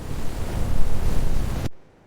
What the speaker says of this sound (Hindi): तेज हवा का झोंका घोंसले को जोर से हिला गया।